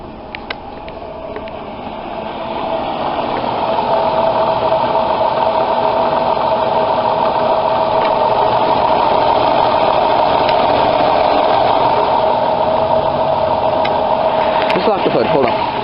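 A car engine runs steadily after an alternator repair and tune-up, idling in neutral with a constant even hum that rises slightly in the first few seconds, while a person talks nearby.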